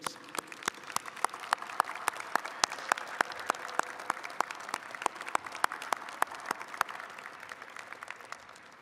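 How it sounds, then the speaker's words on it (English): An audience at a fall college of business convocation ceremony applauds, a soft, sparse spread of distinct hand claps with a few sharp nearby ones popping out over a quiet background. "Candidates, how about a round of applause for your great teams?"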